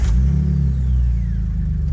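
A 2000 Jeep TJ with about 135,900 miles starts up and settles into a loud, close, steady engine rumble.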